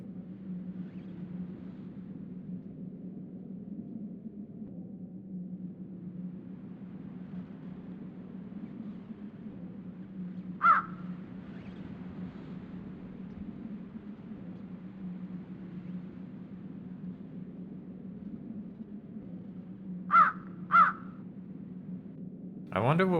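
Crow cawing in the horror video game Dracula: Resurrection: a single caw, a long pause, then two caws in quick succession, each crisp and fairly loud over a steady low ambient drone.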